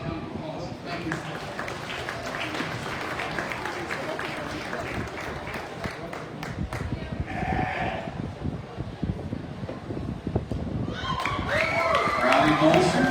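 Sheep bleat at a livestock show, repeated calls over a busy arena with clapping and a running announcer voice throughout, the sound growing denser and louder toward the end.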